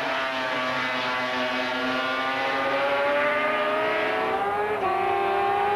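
A 1983 British Grand Prix Suzuki square-four racing motorcycle engine screams at high revs, a loud sustained whine with pitch rising steadily, then dipping briefly near the end as it shifts, with no talk over it.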